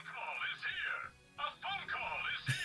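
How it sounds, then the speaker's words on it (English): A cheerful anime dub ringtone plays from a phone, a tinny melodic jingle in repeating phrases with short pauses, fairly quiet and close by. "So this was the ringtone in season 2 at a certain point"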